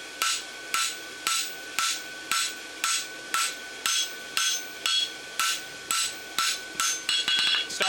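Hand hammer flattening a forged lateral extension bar shoe on an anvil, struck in a steady rhythm of about fifteen sharp ringing blows, each followed by a short pause, ending in a quicker flurry of lighter taps.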